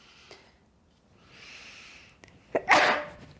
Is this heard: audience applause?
no